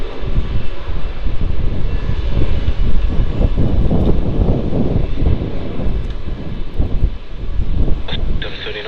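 An Etihad airliner's jet engines roar loudly and steadily at Melbourne Airport, a broad sustained rumble with wind buffeting the microphone and a voice speaking beneath it.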